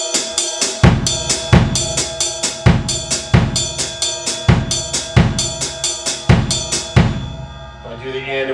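Linear drumming in a 5-3 pattern moved between ride cymbal and snare drum, heard as loud, steady strokes in a repeating grouping with a sustained cymbal wash, then a ringing decay at the end.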